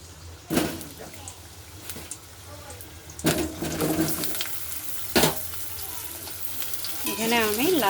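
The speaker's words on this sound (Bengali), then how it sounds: "তেলটা গরম হয়ে গেলে আমি এর মধ্যে দিয়ে দেব পটলটা। আগে আমি পটলটা ভেজে" Pointed gourd (potol) dropped into hot oil, with a few loud clunks before a sizzle swells and holds steady; a voice briefly speaks near the end.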